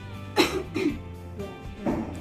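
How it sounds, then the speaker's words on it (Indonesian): A deliberate cough follows a deep breathing exercise, done as effective-cough training: two strong coughs close together, then a softer exhalation and a final cough, heard near and alone. "Tarik nafas, tahan, batukkan."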